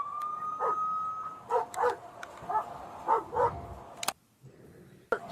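A dog barks in a series of sharp, moderately close barks during a police call, with a faint steady siren-like tone underneath and a few clicks near the end.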